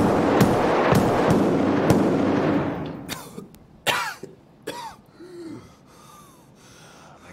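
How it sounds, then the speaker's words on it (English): In the Escape from Tarkov shooter, a player character gives a string of sharp gasping coughs over loud game noise and bangs, the coughs becoming more spaced and isolated as the background thins out. "Like, he's coughing and shit."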